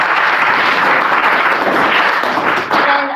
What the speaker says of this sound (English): can everyone just give a round of applause to our organizers.